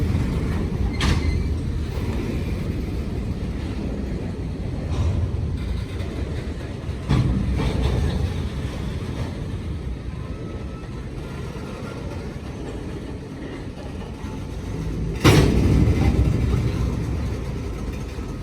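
A CSX freight train slows to a stop with a low, steady rumble, broken by a few sharp creaks and clanks of couplers and brakes, the loudest one near the end.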